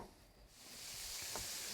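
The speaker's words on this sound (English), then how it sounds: "start frying that up" Goose meat sizzles in a frying pan, a soft hiss that swells and grows steadily louder over a couple of seconds, with no talk.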